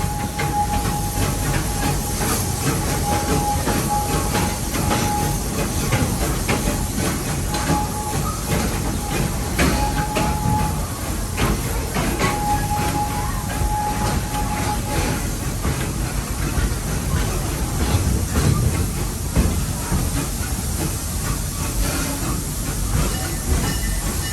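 A safari tour train at Busch Gardens Tampa rumbles steadily along the tracks with a constant loud roar and hiss, faint rhythmic clatter underneath, continuous throughout.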